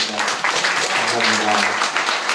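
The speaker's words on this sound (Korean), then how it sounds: "다시 한번 박수 드리겠습니다" An audience claps at a talk in Jung-gu, Seoul, recorded on an iPhone. The applause is moderately loud and uneven, and a voice can be heard speaking over it.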